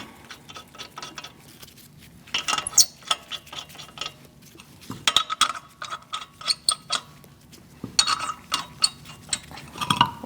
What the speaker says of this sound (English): Install your wheel. Start your lug nuts by hand.